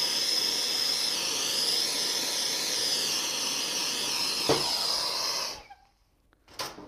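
A torch roars with a steady, loud hiss as it heats aluminum tubing before joining it to copper, then cuts off abruptly near the end, leaving near silence and a short final burst.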